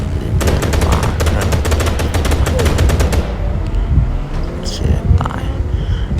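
Rapid automatic gunfire from the video game Gangstar 5 rattles in a dense burst for about three seconds, then gives way to softer scattered game noises and someone commentating over it.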